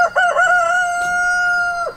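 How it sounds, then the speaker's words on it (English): A rooster crows once, loud and close, in a chicken coop among laying hens, one long sustained call with no talking. "Yeah, we do have a rooster in there."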